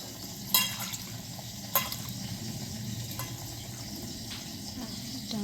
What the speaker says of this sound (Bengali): তো আলুগুলো ভালো করে ভাজা হয়ে গেছে